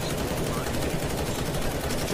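Counter-Strike: Global Offensive gunfire sprays in one continuous dense burst of automatic shots, loud and close, dominating the whole moment without a break.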